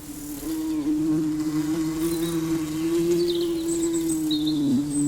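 Bees buzz steadily in a garden, one close, loud drone holding a near-constant pitch for the full five seconds, with faint birdsong chirps high above it and no voices.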